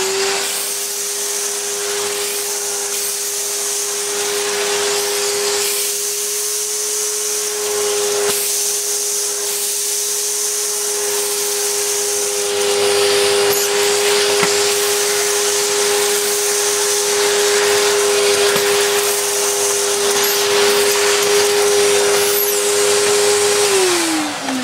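A 1996 Numatic Henry HVR200 cylinder vacuum cleaner, after a motor repair, runs continuously with its floor head cleaning a floor. It holds a loud, steady motor whine with a constant airflow rush and slight shifts as the head moves, then the pitch drops at the very end.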